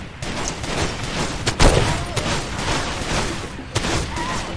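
Sniper gunfire in the video game Far Cry 2: a few sharp, separated shots cracking over a dense, noisy battle background, with one louder blast partway through.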